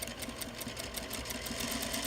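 A sewing machine stitches an elastic casing on the sleeves of a long-sleeved blouse, running in a steady, fast, continuous whir with an even rhythmic tick throughout, close and alone.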